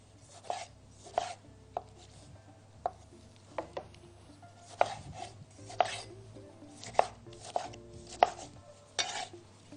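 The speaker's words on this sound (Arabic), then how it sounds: "طماطم بجيبها وبنقطعها" Knife chopping tomatoes into cubes on a board for a tuna and lentil salad, with irregular sharp taps spaced about half a second to a second apart under a low steady hum; no voices.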